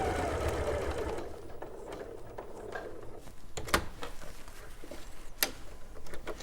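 A sewing machine stitches along the outline of a drawn box on fabric, its fast, steady motor hum running throughout with a couple of sharp clicks near the middle and end.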